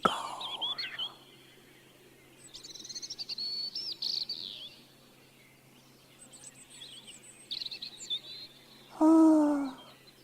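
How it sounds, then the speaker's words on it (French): A European robin sings thin, high trilling phrases in two separate bursts, fairly faint and distant, with a person speaking briefly before and after. "Chut, écoute le rouge-gorge."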